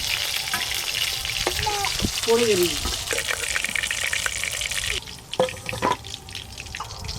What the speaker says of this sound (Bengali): পেঁয়াজ একটু হালকা করে ভাজা হয়ে গেছে